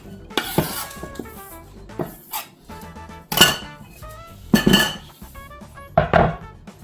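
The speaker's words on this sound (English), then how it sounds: "so I'm going to chop the liver now" A knife chopping cooked liver on a board, with several clattering, uneven taps and knocks spaced across the stretch, close and fairly loud, alongside light metallic kitchen clinks.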